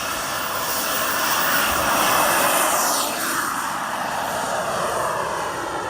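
An F-4 Phantom RC turbine jet model flying overhead at Santa Rosa, a loud, steady turbine roar that swells as it passes near and then shifts pitch while it moves away.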